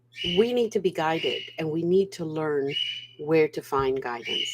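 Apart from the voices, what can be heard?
pet bird chirping and whistling in the background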